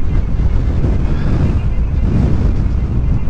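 Strong wind buffets the microphone in a constant low roar while riding an electric unicycle at Brooklands, heavy and close throughout, with no clear speech.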